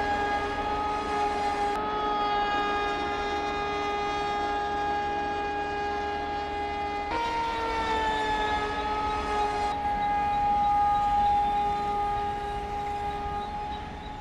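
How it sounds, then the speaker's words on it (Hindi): The 12216 Bandra Terminus–Delhi Sarai Rohilla Garib Rath Express, hauled by a V5 locomotive, sounds its horn in long sustained blasts while crossing close by, with pitch shifts as the horn restarts and rail rumble underneath. "ये जो ट्रेन है गाइस, ये है 12216 बांद्रा टर्मिनस दिल्ली सराय रोहिला गरीब रथ एक्सप्रेस, जो कि भाई V5 के साथ फुल्ली एकदम हॉर्न मारते हुए हमें क्रॉस कर रही है"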